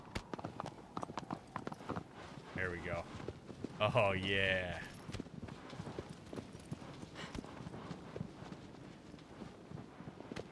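Horse hooves clip-clop in a quick, uneven gait in the video game Shadow of the Colossus, moderately close, while someone talks and exclaims over them.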